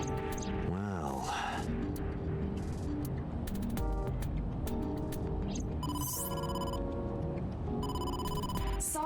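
A phone call rings in the video game AI: The Somnium Files. Short, bright electronic ringing bursts repeat over a steady, busy background of game music and ambience.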